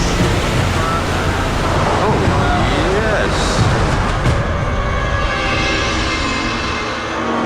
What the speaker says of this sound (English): There's 70 tonne of water coming down in one go.